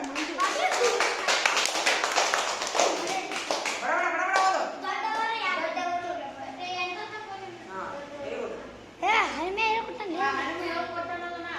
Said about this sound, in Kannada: ಅಡ್ಡಿ ಚಪ್ಪಾಳೆ ಹೊಡ್ರಿ ಅವಂಗ.